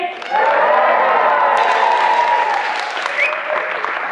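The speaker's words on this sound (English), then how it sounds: "I'm going to ask you to cheer as if one of the acts are coming on stage" A talent show audience cheers and applauds on cue, a sudden loud burst of clapping with high shouts and whoops that holds steady for a few seconds before easing slightly.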